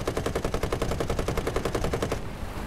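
Rapid machine gun fire from a vehicle in the War Thunder combat game rattles in one fast, even burst that lasts about two seconds, loud and close, then cuts off to background noise.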